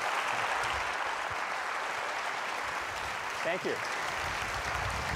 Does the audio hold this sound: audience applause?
yes